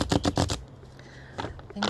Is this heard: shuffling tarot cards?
yes